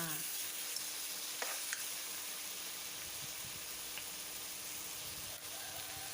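Squid stir-fry with oyster sauce sizzling steadily in a pan, a soft continuous frying hiss with occasional light scrapes of stirring.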